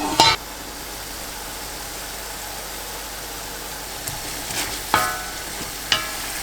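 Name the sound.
stirring chicken palak paneer balti masala in pan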